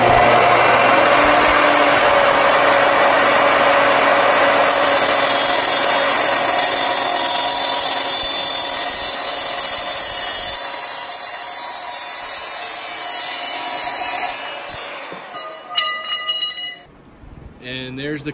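Evolution R255 miter saw cutting through a thin piece of steel about 1/16 inch thick, a loud continuous metallic grinding whine with a high screech that winds down and stops near the end.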